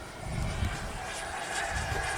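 A FlyFans Su-27 Flanker model jet with twin 64mm electric ducted fans makes a full-throttle pass, giving a steady, fairly faint rushing whine with no voices.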